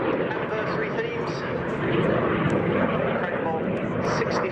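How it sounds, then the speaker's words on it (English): Two Jet Provost jet trainers and a Strikemaster roar steadily overhead at an air display at RAF Cosford, loud and continuous, with a commentator talking over the engine noise throughout. "What we have on display for you in the air is 2 Jet Provosts and a Strikemaster"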